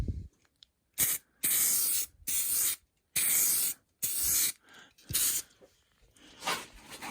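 Clear coat spraying from a can over decals on a Pioneer car stereo unit, heard as about six sharp hissing bursts separated by short silences, close and fairly loud.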